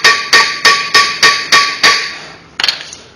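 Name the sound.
hammer tapping a brake rotor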